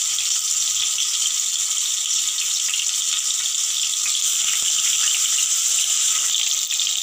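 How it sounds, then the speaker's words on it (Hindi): Vegetable pieces deep frying in mustard oil, a steady, loud, even sizzle with a constant bubbling hiss that holds unbroken throughout, with no talking over it. "ये देखिए मैं इसे डाल दी हूँ, अभी थोड़ी देर इसको ना मैं फ्राई करूँगी"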